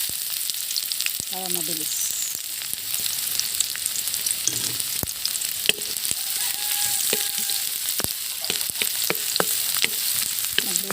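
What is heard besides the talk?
garlic and onion sautéing in a pan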